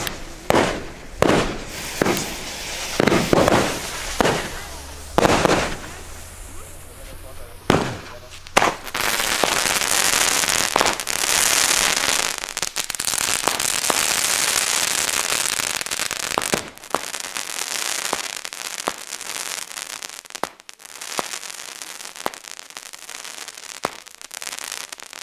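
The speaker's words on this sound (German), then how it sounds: "das sind 7-Schuss-Crackling-Kometen-Batterien" Seven-shot crackling comet firework batteries fire outdoors, opening with a rapid series of sharp launch bursts and then turning into a long, loud, dense crackling roar that thins into scattered pops and crackles near the end.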